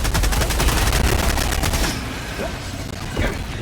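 Rapid automatic gunfire rattles loudly for about two seconds in the Helldivers video game, then fades into quieter game noise and distant bursts.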